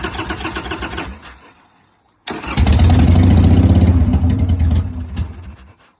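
A Harley Davidson motorcycle engine with its choke on cranks with rapid chugging pulses, falls silent briefly, then catches and roars loudly for a few seconds before dying away, with no talking.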